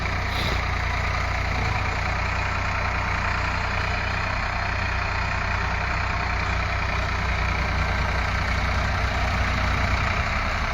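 A tractor engine runs steadily while preparing a field for sowing chickpeas, a loud, close, continuous drone that holds level throughout with no pauses.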